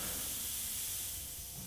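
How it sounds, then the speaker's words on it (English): A GSI Creos Mr.Hobby PS.770 airbrush spraying reducer at full throttle gives a continuous, close, airy hiss that holds level and fades only slightly at the end. "So you can see the spray of just that reducer"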